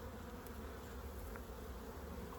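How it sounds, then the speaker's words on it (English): Honeybees crowd the frames of a large queenless hive, a dense continuous close-up buzz holding steady throughout at a low level. "There's still quite a few bees on these frames."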